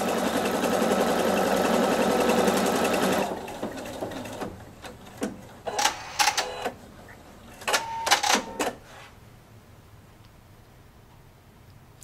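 A Viking Sapphire 960Q sewing machine stitches fabric in a fast, loud steady run for about three seconds, then falls to a few short stitching bursts and clicks.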